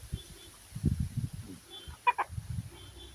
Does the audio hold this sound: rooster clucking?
yes